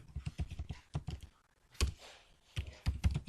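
Fingers type code on a computer keyboard with quick, close clicks in bursts, a brief pause, then another run of keystrokes, quiet and alone with no talking.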